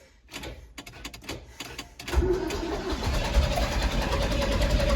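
Vehicle engine after an oil change cranks with a fast rapid clatter of starter turns, then catches at about two seconds and settles into a steady close idle.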